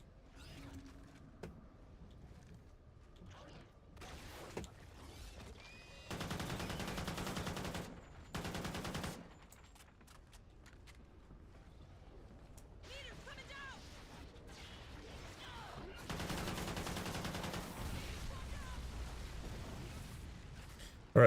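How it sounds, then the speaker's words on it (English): AK-12 rifle firing in a video game, heard as two dense bursts of automatic fire a few seconds apart amid quieter game mechanism clicks and rattles, with no talking. "AK-12, by the way."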